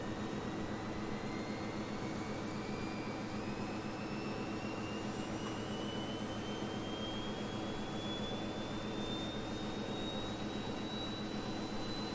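The third engine of a BAe 146 jet airliner starts in a flight simulator, its whine climbing gradually over a constant, even roar that carries on throughout with no voices.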